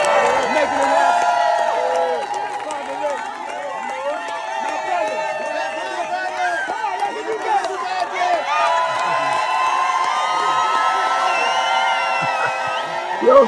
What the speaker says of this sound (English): let's give a round of applause for Brother Rich, Radiohead Rich.